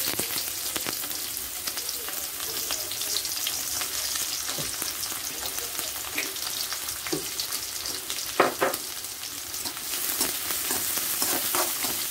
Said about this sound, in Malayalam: എണ്ണ ചൂടായിട്ട് വന്നിട്ടുണ്ട് ഞാൻ അതിലേക്ക് അരിഞ്ഞ് വെച്ചിട്ടുള്ള സവാള ഇട്ട് വെക്കാൻ പോവാണ്